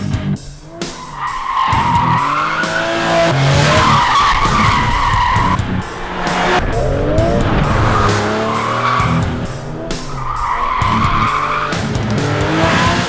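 A second-generation Porsche 911 996 GT3 driven hard on a race track, its engine loud and rising through the revs in repeated pulls, with tyres squealing through the corners and no voices.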